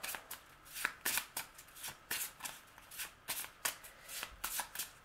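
A deck of cards for the Star Wars Destiny card game is riffle-shuffled, giving a quick run of crisp, rhythmic flutters that repeat steadily and sit close and fairly quiet.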